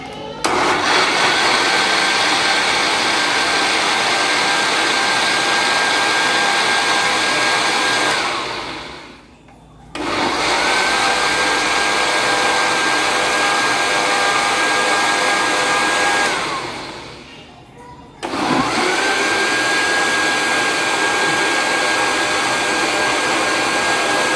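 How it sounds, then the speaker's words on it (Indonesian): A blender runs with a steady, loud whirring drone, blending soybeans and water, stopping briefly twice before starting up again; no voices. "Blendernya ditutup, kita blender."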